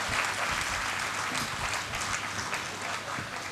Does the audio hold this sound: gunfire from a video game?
no